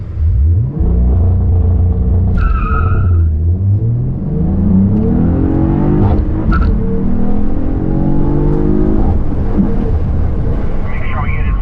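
Cadillac CT4-V Blackwing with a manual gearbox doing a launch-control start on a driving-school course: loud, close engine revving that holds, then surges as the car accelerates, the pitch climbing and dropping through gear changes.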